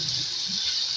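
Water is poured into masala frying with turmeric in a pan for dhaba-style bhindi, a steady hiss and gush throughout one second, close and even.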